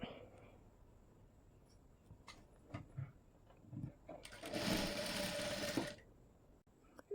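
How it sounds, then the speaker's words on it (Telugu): A sewing machine stitches a folded open fabric edge on a blouse neckline, one steady run of about two seconds after quiet handling noises. "ఈ ఓపెన్ ఉన్నదాన్ని ఫోల్డ్ చేసుకొని ఒక కుట్ అయితే వేసేసుకుందాం ఇలా"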